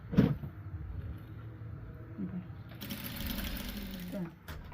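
A sewing machine stitching the folded hem of a party frock runs with a steady whirring hum, shifting in pace partway through, while someone speaks over it.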